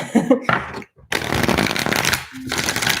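Soul cards for a reading shuffled by hand in a few quick riffling bursts separated by brief pauses, close and fairly loud, with a soft vocal sound near the start.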